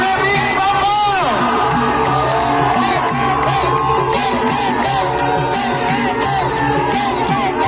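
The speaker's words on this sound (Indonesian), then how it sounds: "Beri tepuk tangan untuk Jack Magic Sampang." A large outdoor crowd at a bull race prize ceremony claps and cheers loudly and continuously, with whoops and shouts rising over a dense, steady roar.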